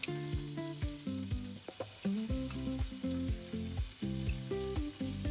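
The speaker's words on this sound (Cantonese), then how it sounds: "你梗係要煎啊嘛，煎係要肯定兩邊即係都煎到啦" Steady sizzling of pork ribs frying in a pan, with pieces hissing and spitting continuously and soft scraping or stirring sounds throughout; no voices.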